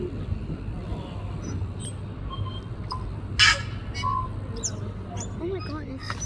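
A tūī, a native New Zealand bird, calls outdoors with a few sharp, bright notes and chirps, one louder burst midway, over steady low background noise.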